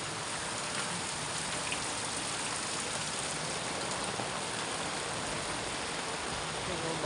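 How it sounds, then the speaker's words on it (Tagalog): Heavy rain pouring steadily over a flooded street by a market, a dense constant hiss with no breaks, loud and close. "Wala pa naman tigil yung ulan mula kanina."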